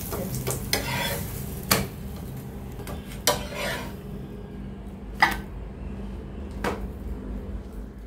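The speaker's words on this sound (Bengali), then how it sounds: "দেখো ভেজে নিচ্ছি ঘি দিয়ে, আঁচটা কম করে দিতে হবে," Paratha frying in ghee in a pan over low heat, a gentle steady sizzle with a few sharp scrapes and knocks of a spatula, close by and without talk.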